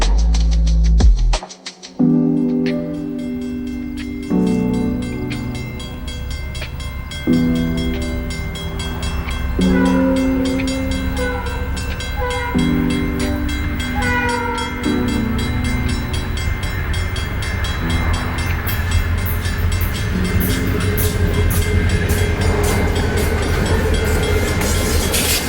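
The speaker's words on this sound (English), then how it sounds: "The consist makes its way onto the main as it rolls through the spring switch at the east end of the siding," A Santa Fe train rolls through a spring switch at the east end of a siding onto the main line, opening with a brief low rumble, then long sustained horn chords repeating over loud steady wheel noise.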